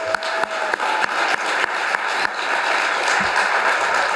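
Audience at a National Corvette Museum groundbreaking for a new collections facility claps steadily for several seconds, a moderate outdoor applause with a few sharper individual claps standing out.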